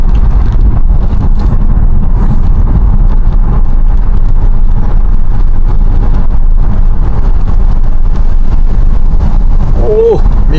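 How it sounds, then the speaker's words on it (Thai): Strong wind roars against a car driving on the mountain road from Luang Prabang to Vang Vieng in the rainy season, a constant loud rumbling buffet with road noise beneath and no clear words. "มีลม"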